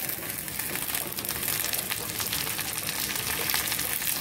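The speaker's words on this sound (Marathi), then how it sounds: "छान आपल्याला तेलात भाजून घ्यायचं आहे। छान आपलं लाल होईपर्यंत आपण छान असं भाजून घेणार आहोत।" Onion and coconut roasting in oil in a pan for a Pandharpur-style amti, a steady, close, dense sizzle of frying that holds evenly throughout with no voices.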